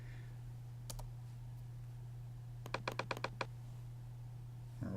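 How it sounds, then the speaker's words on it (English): Keys clatter on a computer keyboard while typing in InDesign: a single tap, then a quick run of five or six crisp clicks, close and fairly quiet over a steady low hum. "I'm just typing in"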